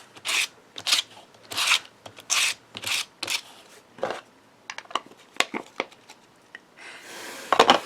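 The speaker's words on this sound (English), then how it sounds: "I have the Distress Ink Vintage Photo, and rub it along those wrinkles." Distress Ink Vintage Photo pad rubbed along wrinkled paper while crafting a gift suitcase, heard as a series of short scratchy rasping strokes in an irregular rhythm, close and fairly quiet, with no talking.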